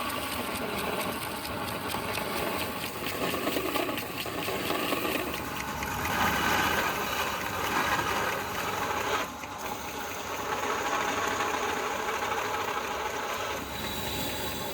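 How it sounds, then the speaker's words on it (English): An industrial belt grinder with a coarse grit belt roughs out a forged knife blade against the platen, giving a continuous harsh, gritty whir with steady mechanical rattle and slight dips in intensity as the blade is worked. "we move over to the industrial belt grinder. I'm using a coarse grit belt to rough out the blade geometry"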